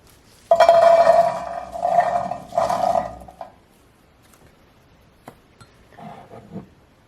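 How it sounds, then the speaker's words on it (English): Fresh cranberries poured into a saucepan, a loud rolling clatter of berries hitting metal in two quick bursts, followed by a few scattered clinks and a softer final rattle. "Right into a saucepan."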